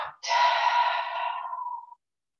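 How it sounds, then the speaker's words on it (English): A single long exhale during a seated desk yoga session: a close, airy breath that starts strong, thins gradually, and fades out after nearly two seconds, with no talking. "Exhale out."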